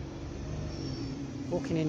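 A bus passes through a quiet Derbyshire village street, making a steady, loud engine rumble and road roar throughout, with a voice briefly heard near the end.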